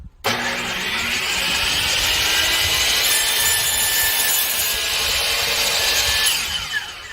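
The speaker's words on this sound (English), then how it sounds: "if you need to go ahead and cut a piece of wood, DeWalt's the way to go" A DeWalt power saw bites into a piece of wood and cuts steadily for several seconds, a loud, close, continuous whine and rasp that starts abruptly and trails off at the end.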